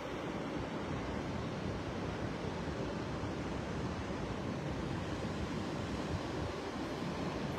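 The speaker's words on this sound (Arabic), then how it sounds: "اليوم الخميس، هذا الحركة البحر، كاين واحد الجزر، البحر طبيعة الحال هادئ بعض الشيء" Calm sea waves wash near the shore beside the Hassan II Mosque in Casablanca at low tide, a steady, unbroken broadband roar of surf with some wind, with no speech.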